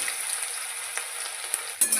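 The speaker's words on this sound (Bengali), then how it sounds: "আলুটা আমি লাল লাল করে ভেজে নেব।" Potatoes fry in oil with a continuous, close hiss, and a couple of brief stirring scrapes come near the end.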